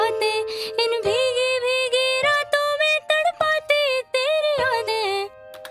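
Synth chords played back in FL Studio over a vocal loop, a steady sequence of warm sustained chords under a pitch-shifting melodic voice line, moderately loud with brief gaps between phrases.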